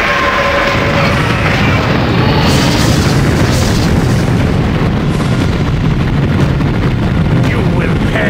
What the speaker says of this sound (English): Fire broadside battery.